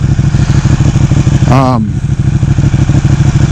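A Ducati 899 Panigale sport motorcycle engine runs steadily with a loud, rumbling idle, and a brief higher whine rises over it midway.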